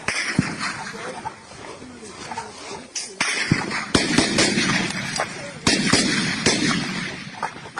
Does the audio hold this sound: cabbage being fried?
no